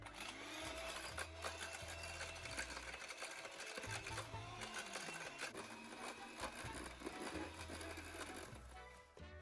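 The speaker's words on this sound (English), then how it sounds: "Now you will get your professional mixer and mix your egg whites until they get foamy." A professional electric mixer whipping egg whites until foamy for a vanilla soufflé makes a continuous loud mechanical whir with a rattling, pulsing drone throughout.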